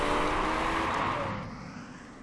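Race car engine roaring at full throttle in the Motorsport Manager racing game, a loud sustained drone with a high tonal whine that fades and recedes toward the end.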